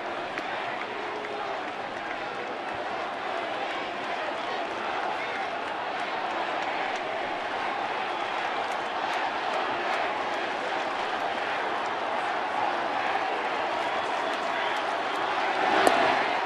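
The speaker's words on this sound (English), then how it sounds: "Let's go Yankees cheer tries to gain momentum." A large baseball crowd at a Yankees game against the Mets hums with a steady, sustained chant-like roar, broad and distant, with a play-by-play voice talking over it.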